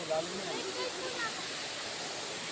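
Daranak Falls pours in a constant broadband rush, a steady nearby roar of falling water with a few faint voices briefly rising over it.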